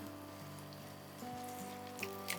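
Pieces being lightly fried in a pan for radish mutton (muli gosht) make a soft, steady crackling sizzle, near and fairly quiet, over a faint background hum.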